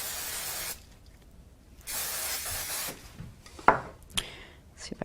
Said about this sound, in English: I'll give that a little bit of a spray